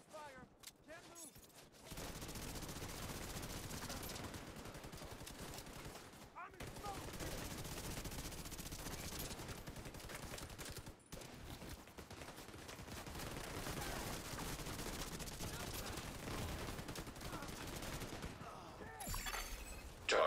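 Sustained heavy gunfire from a Tom Clancy's The Division 2 firefight, dense overlapping bursts and impacts running almost unbroken for about twenty seconds, with brief gaps and a voice speaking partway through.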